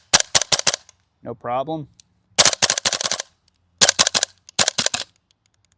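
Double Eagle DWS Lupus gas blowback airsoft rifle firing in close, sharp bursts of rapid cracking shots with silent gaps between strings, and a brief spoken remark between the first bursts.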